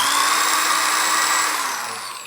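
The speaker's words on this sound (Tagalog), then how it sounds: "Then lagay tayo ng isang barena, no." Electric drill powered through a 1 kW pure sine wave solar inverter, running at steady speed with a high, whining motor tone, loud and continuous before winding down slightly at the end, with no talk.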